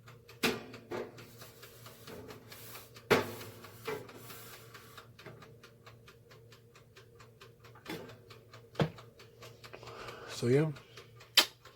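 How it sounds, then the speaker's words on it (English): A broken Nostalgia BSET300AQ retro 3-in-1 breakfast station with its grill switched on gives off faint, irregular ticks and clicks, close by, with a person speaking briefly at the start. "It's just ticking away."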